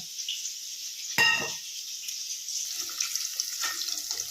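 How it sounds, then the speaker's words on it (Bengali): Hot water is poured into a container in a kitchen where paneer is frying, a sudden splashing burst followed by a steady background hiss, with no speech. "সেই পাত্রে গরম জলটা দিয়ে দিলাম"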